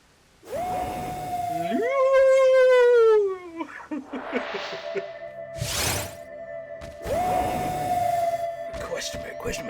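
The legendary dog in the video game Pokemon Sword lets out loud, wavering, rising-and-falling howls, repeated twice with a short gap. A player speaks around the cries.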